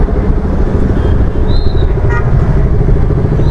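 Motorcycle engine running in congested night traffic, a constant low rumble and drone close by with wind noise over the microphone.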